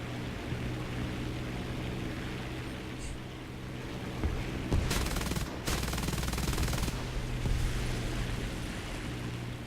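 Heinkel He 51 biplane's machine guns firing at ground targets in War Thunder: loud, sustained rattling bursts in two main strings, over a steady engine drone.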